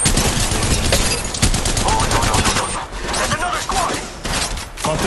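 Rapid gunfire from the battle royale game Apex Legends, sustained bursts and shots rattling loud and dense almost throughout, with voices talking over the action.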